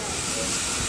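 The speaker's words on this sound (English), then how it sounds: "4555 Warrior on the Paignton Dartmouth Steam Railway, Paignton Queen's Park Station, taking on water now" Steam hissing steadily from GWR-style tank locomotive 4555 Warrior as it takes on water at Paignton Queen's Park Station on the Paignton Dartmouth Steam Railway, a close, constant broadband rush without a break.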